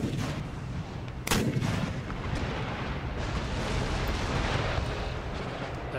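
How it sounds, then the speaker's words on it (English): Cannons fire in Empire Total War during a battle, booming artillery that starts with a sharp blast and then rolls on as a dense, continuous rumble of gunfire and explosions, loud and with no talking over it. "Still firing their cannons"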